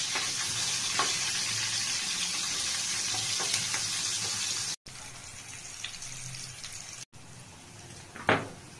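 Green chilies and onions fry with cumin and bay leaf for an egg curry, giving a steady close sizzle throughout, with scraping stirs in the pan and a sharp clatter near the end.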